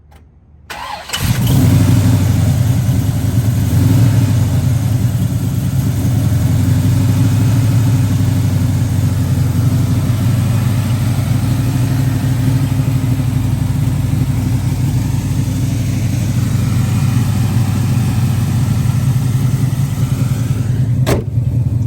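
A 1979 Pontiac Trans Am's 455 V8 fires up and settles into a loud, rumbling idle that holds steady for about twenty seconds, deep and close.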